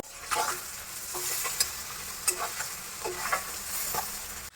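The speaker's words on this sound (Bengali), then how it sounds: "কড়াইয়ের মধ্যে দিয়ে একটু ভেজে তারপর কাটবো" Fish fat frying in hot oil in a wok, a bright continuous sizzle broken by repeated spatula scrapes and stirs, close and fairly loud with no one speaking.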